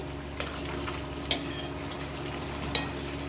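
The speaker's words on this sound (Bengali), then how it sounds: "পরিমাণ মতো নুন পরিমাণ মতো হলুদ দিব দিয়ে একটু শাকের সঙ্গে মিশিয়ে নিচ্ছি" A spoon stirs pumpkin greens with salt and turmeric in a pan, a soft scraping sizzle punctuated by two sharper clinks against the metal, close and steady.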